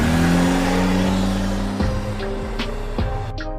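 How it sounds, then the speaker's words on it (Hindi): A cartoon car's engine revs and hums loudly as it turns, with a brief squeal and bumps before the motor sound drops away at the end. "गुल्ली जल्दी से गाड़ी को घुमाओ।"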